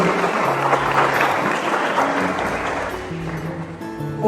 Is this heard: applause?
yes